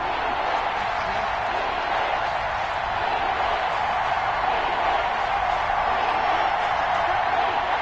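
A stadium crowd roars in the football video game Madden 21, a steady, dense wall of cheering noise that holds constant throughout.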